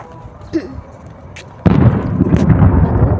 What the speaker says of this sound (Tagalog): Pumutok na yung kanyon.